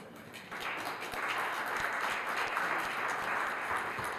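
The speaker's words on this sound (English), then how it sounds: "Okay, another round of applause." Conference audience at a summit on gentrification gives a round of applause, steady many-handed clapping that builds after the first half-second and holds at a moderate, somewhat distant level.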